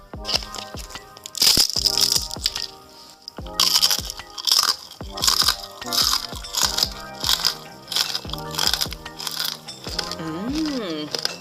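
Crispy fried eggplant chips are bitten and chewed up close, giving loud, repeated brittle crunches in irregular bursts with softer munching between them.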